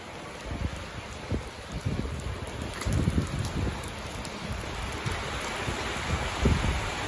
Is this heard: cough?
no